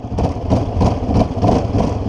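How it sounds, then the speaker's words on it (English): Quad bike with a manual clutch lugging in too high a gear: a low, labouring engine drone with uneven pulsing surges roughly every quarter second, close and steady throughout, with no talking. "And lugging the bike is essentially going too fast, too slow and too high of a gear"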